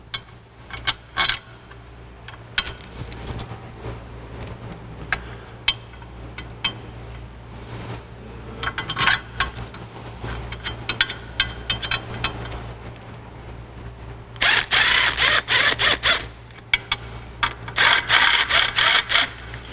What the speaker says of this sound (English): I'm just tightening these up just barely where they're snug